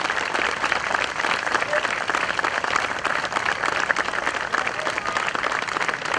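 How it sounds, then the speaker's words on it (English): A crowd applauds veterans at an outdoor Memorial Day ceremony in Underhill and Jericho, a dense and steady clapping that fills the whole stretch at close to mid distance, with no voices rising above it. "Could I ask you all to lead a round of applause for our veterans?"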